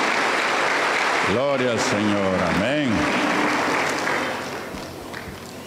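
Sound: church congregation applause

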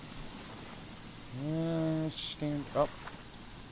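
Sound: rain in the video game Stranded Deep

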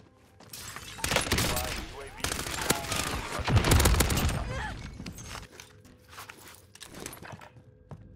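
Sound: gunfire in the video game Warzone

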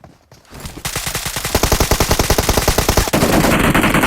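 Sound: gunfire in the video game PUBG Mobile

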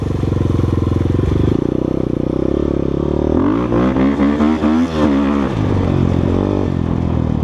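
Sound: Kovi Advance 250 motorcycle engine running

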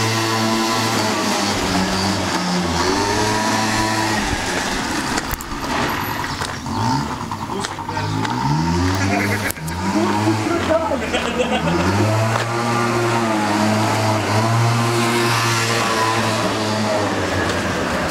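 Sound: moped engine revving

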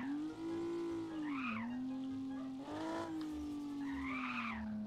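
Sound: car drifting with tire squeal in a video game

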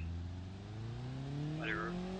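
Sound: Ibishu Covet car engine revving in a video game (BeamNG)

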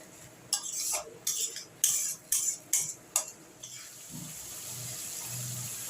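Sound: water added to frying masala and stirred for fish curry

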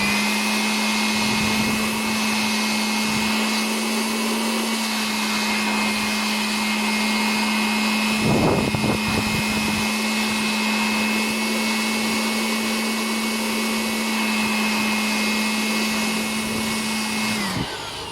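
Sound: blower drying a removed Epson printer print head

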